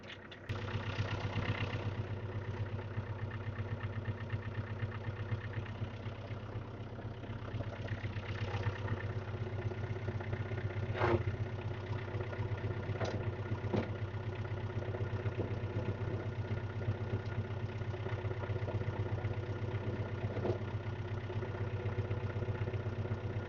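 A snow blower engine runs steadily at idle with its power take-off shut off, a constant low mechanical drone with a few faint clicks and knocks over the top, near and unbroken throughout.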